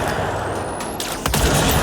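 Loud, dense gunfire in the video game Control fills the clip, with sharp bursts of shots over a rumbling background and a harder volley near the end.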